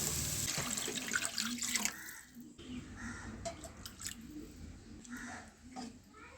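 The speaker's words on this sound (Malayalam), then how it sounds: "അതിൻ്റെ ഇരട്ടി വെള്ളം, അതായത് 4 കപ്പ് വെള്ളം ചേർത്ത് കൊടുക്കാം." Water poured into a pot of rice while cooking, a steady running splash with drips that continues through the stretch, fairly close and moderate in level, alone without talk.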